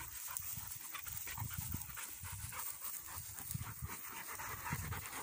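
Bernese Mountain Dogs in a forest panting rapidly after running, a quick steady breathy rhythm close by and faint, with no talk.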